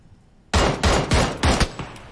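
Video game gunfire: a sudden burst of four or five loud, close shots in quick succession after a quiet moment, with no voices.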